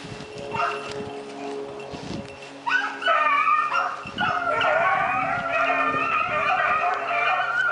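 Hunting beagles give high, wavering cries and yips while trailing a rabbit through brush. The baying rises and carries on continuously at moderate distance, with scattered rustling and knocks in the foreground.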